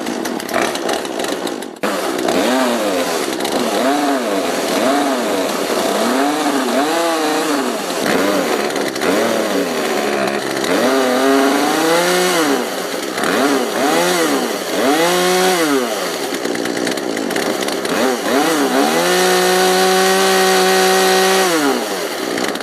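A chainsaw runs with its top cover off while its carburetor is adjusted, the engine loud and close, revving up and down in repeated swells before settling into a steady high whine near the end.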